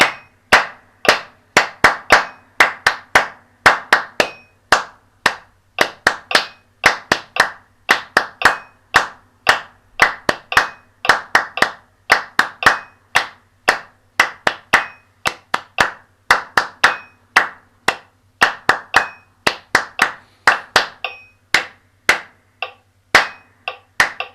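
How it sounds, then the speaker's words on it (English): Sharp hand claps repeat in a steady rhythmic pattern during a musical warm-up session, close and crisp, continuing alone without talk for over twenty seconds. "I'm going to clap the top pattern if you can join in with me"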